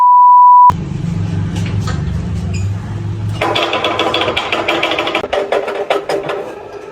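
A machine with a jammed load bearing runs with a harsh, rapid rattling clatter after a brief steady tone and a lower humming stretch. The knocking grows denser and loud and close.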